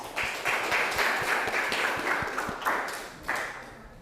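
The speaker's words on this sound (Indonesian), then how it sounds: "tepuk tangan buat kelompok 2." Applause from a class of vocational school students in a broadcasting and film lesson, a steady patter of many hands clapping at moderate distance for about four seconds, with a couple of louder swells.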